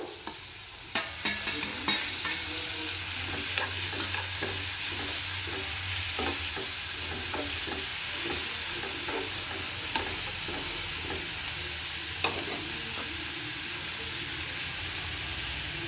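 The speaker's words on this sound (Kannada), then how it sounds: "ಇದು ಫ್ರೈ ಆಗಲಿ." Tomato with curry leaves frying in a pan for a sprouted green gram usal, giving a continuous hissing sizzle and repeated scraping stirs, close and fairly loud with no voices.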